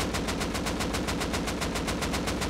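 Rapid automatic gunfire from hip-firing a weapon in the video game Rust, a fast, even stream of loud shots, about seven per second, continuous for the whole stretch.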